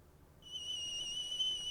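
After a quiet moment, a tea kettle starts whistling, a thin, steady high-pitched tone that holds on evenly at a moderate level.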